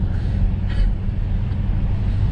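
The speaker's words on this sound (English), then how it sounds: "Oh, Dodge." A Dodge passes at a local car cruise, a continuous low engine rumble heard close and steady with a slight swell partway through.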